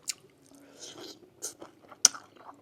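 Someone eating a meal with rice makes close, quiet chewing and biting sounds, with a few crisp crunches and soft mouth noises between them.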